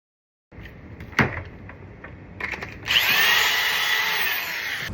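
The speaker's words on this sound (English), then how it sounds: "This thing, 18 gauge brad nailer." An 18 gauge brad nailer used on wooden trim frames for studio bass traps gives one sharp snap early on, followed later by a steady, loud hiss of air that carries on to the end.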